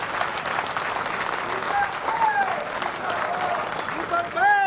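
Rally audience applauding the state party president at a Congress gathering, a steady broadband wash of clapping running throughout with crowd noise and faint whistles or cheers rising near the end.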